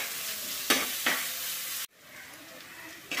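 Chopped onion and green chillies frying until brown in a pan, a bright continuous sizzle with a few stirring scrapes and a brief break midway.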